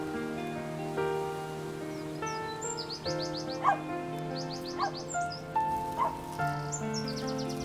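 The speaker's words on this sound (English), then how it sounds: "Oh, and a dog is arguing with a bird over there." Ambient scene from the video game Love & Deepspace: a dog's short barks trade back and forth with chirping bird calls over a steady background of layered tones, no one speaking.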